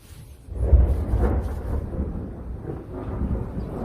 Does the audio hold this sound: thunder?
yes